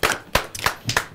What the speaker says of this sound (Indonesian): Tepuk tangan buat Nyoman dan Frimawan.